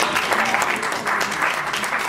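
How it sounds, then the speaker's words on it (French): An audience at the launch conference of the first Vietnamese film festival claps in a loud, continuous, close round of applause that stays even throughout. "On peut applaudir Richard Wolinski"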